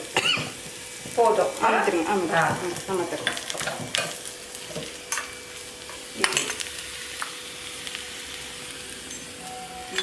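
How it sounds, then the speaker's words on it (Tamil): Onions and chilies fry in a pan with broadband sizzling and stirring scrapes, loudest early then settling to a steady hiss, with occasional sharp clinks; a voice speaks briefly. "இப்போ நல்லா வதங்கிடுச்சுல, நல்லா கலர் மாறணும் வெங்காயம்"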